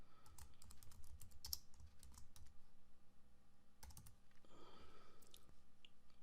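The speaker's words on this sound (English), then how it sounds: "I'm going to type in some text in there" Typing on a computer keyboard, quiet close key clicks in irregular quick runs with short pauses, alone without talk.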